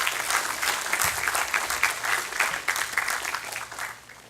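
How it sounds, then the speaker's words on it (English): A secondary school football league prize-giving audience applauds the girls' football team, steady crowd clapping filling the hall at moderate loudness and tapering off toward the end. "I think they deserve a round of applause."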